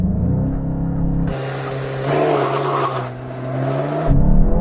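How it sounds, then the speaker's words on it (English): A Volkswagen Golf 8.5 GTI launches hard from a standstill, its engine note rising steadily and then dipping between gear changes, loud and close from inside the cabin with no talking. "Let's see how quick this GTI is on the launch."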